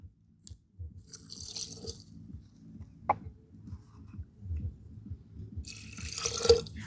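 Spiced water poured into a clay pot in two short splashing bursts, separated by quiet stretches with soft knocks and a single sharp clink.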